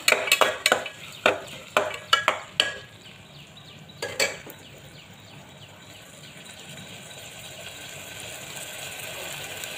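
Sprouted moth bean curry sautés in a pan: a burst of rapid, clattering spatula stirs against the pan gives way to a steadier, quieter sizzle, close up and without talk.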